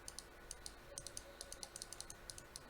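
Quick, regular keystrokes rattle on a computer keyboard as a network routing command is typed, a steady close run of light clicks with no voices.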